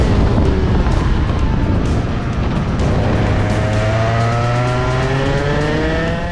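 A shifter kart races on a cold track, its engine screaming loud and close, then rising in pitch as it accelerates away through the gears.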